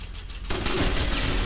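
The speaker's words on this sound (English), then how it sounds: "The other turrets didn't shoot me before." Turrets open fire in Fallout 76, a sudden burst of rapid gunfire that starts midway and continues as a dense roaring barrage to the end, loud and close.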